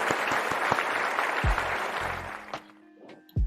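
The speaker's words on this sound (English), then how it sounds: "Applause for the first S in the tier list." Crowd applause rises as a dense, steady wash of clapping for a couple of seconds, then thins into a few scattered final claps.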